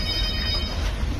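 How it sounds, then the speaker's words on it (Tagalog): A telephone rings on a life boat, an electronic ringtone with steady tones over a loud low rumble throughout the short moment. "Yung telepono."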